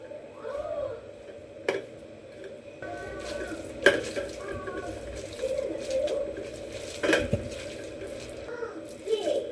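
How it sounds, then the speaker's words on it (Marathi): Aluwadi batter of turmeric, salt, masala and water being stirred by hand in a bowl, with soft wet churning, scattered sharp clinks of a utensil against the vessel and background kitchen noise. "आणि व्यवस्थित मिक्स करून घेऊ।"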